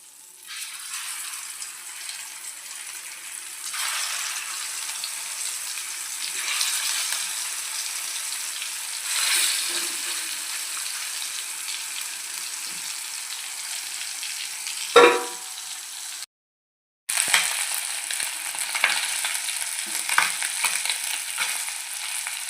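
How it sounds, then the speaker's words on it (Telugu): Fish pieces sizzle steadily in hot oil, a soft, continuous crackling hiss with a brief clatter midway and a short gap before the frying resumes. "నూనె అయితే కాగింది చేప ముక్కలు అయితే వేద్దాము"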